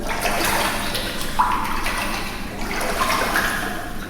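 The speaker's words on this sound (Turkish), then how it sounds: "Su sesleri geliyor bir yandan da." Running, flushing water echoing through the empty halls of a Backrooms horror video game, a steady moderate rush with gurgling swells and no speech.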